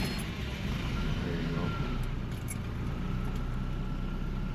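A Toyota pickup engine with a newly replaced ignition starter switch runs after starting, giving off a steady, loud idle rumble with some faint metallic jingling on top.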